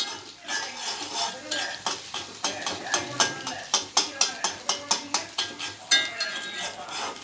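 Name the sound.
stirring and sautéing in a frying pan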